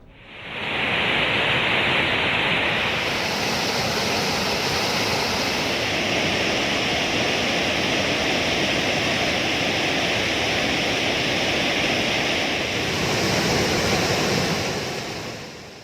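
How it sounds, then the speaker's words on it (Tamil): Floodwater on the Kottakudi river roars over a check dam in a loud, continuous broadband rush that holds steady throughout, with no voices. "தடுப்பணையில் வெள்ளம் கரைபுரண்டு ஓடுகிறது"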